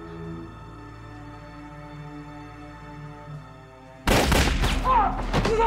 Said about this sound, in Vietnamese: Bình Tam, Lão Ngũ, ai nổ súng vậy